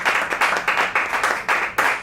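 An audience claps at a live concert at Rockwood Music Hall, with rhythmic, close, fairly loud hand claps in a steady pulse of roughly four per second.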